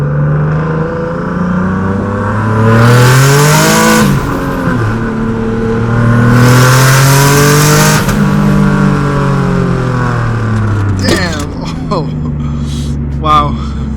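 Car engine pulling hard under high boost, a loud close roar with rising and falling pitch across repeated gear pulls, then a brief rattling whir near the end.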